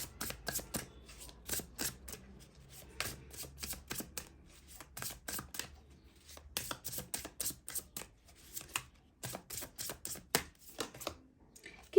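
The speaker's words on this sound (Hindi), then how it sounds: "यहाँ से मैं 4 कार्ड निकालूंगी" Tarot cards are shuffled and drawn, giving quick papery riffles and soft snapping flicks in irregular bursts, close and fairly quiet, with no voices.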